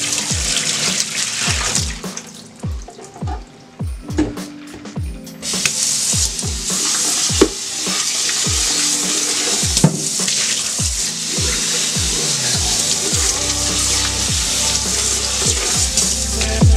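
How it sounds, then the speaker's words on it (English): Dirty water from cleaning a rug pours into a sink, a steady rushing splash with many sharp clicks and knocks throughout, loud and close. "Get ready for really, really gross pour of all of this nastiness that came out of the rug."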